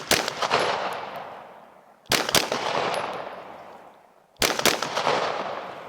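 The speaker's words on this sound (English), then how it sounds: "I'm gonna do some doubles just so you guys can see how flat it shoots" A Smith & Wesson M&P 2.0 Competitor pistol fires three loud, sharp bursts about two seconds apart, each a quick double shot followed by a long ringing decay outdoors, with no voices.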